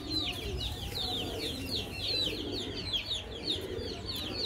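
Rampuri Aseel chickens clucking and chirping nearby in a quick, repeated run of short calls over a low background rumble, with no talk.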